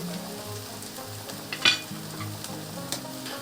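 Onions frying in olive oil over medium-high heat for homemade lentil soup, a steady sizzle punctuated by a few stirring scrapes and one sharp spatter, with no talk.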